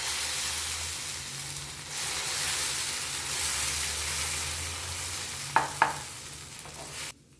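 Soya dosa batter spreads on a hot dosa griddle with a broad, steady sizzling hiss over a low hum, two quick utensil clicks near the end before it cuts off abruptly; no voices.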